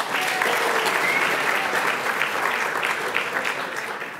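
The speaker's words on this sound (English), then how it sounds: "Give yourselves a round of applause." Audience applause at an annual ethnic business awards ceremony, steady clapping from a large crowd in a hall, holding level for several seconds.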